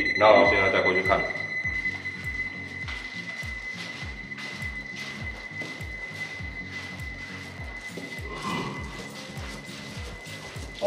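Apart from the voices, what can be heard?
beeping from electrical circuit test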